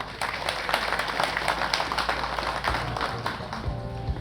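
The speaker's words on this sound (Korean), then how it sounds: "정영철 영동 군수님 박수로 맞이해 주십시오." A crowd applauds as a county official is welcomed at a memorial ceremony for the Nogeun-ri incident victims. The clapping is moderately loud and sustained outdoors, with a low hum underneath.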